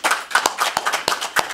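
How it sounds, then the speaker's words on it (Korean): Sparse clapping from a small seminar audience in a council meeting room honouring independence activist Yun Hyeong-suk, distinct individual claps in an uneven rhythm, close and clear. "박수 한번 부탁드립니다"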